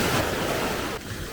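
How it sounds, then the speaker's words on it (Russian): Big ocean waves break on a beach at Bali's Bukit peninsula, a loud, continuous roar of surf and wind noise that dips slightly partway through. "все-таки волны, правда, очень большие"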